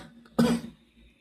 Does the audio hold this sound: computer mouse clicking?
no